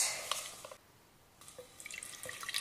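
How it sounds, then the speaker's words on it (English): Warm water poured onto active dry yeast in a bowl for bread dough: a quiet splashing trickle that pauses briefly, then resumes with scattered drips, close and faint, no talking. "Add in your warm water"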